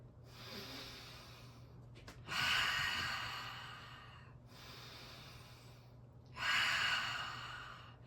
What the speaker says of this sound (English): you want to make sure you're always inhaling through the nose and exhaling through the mouth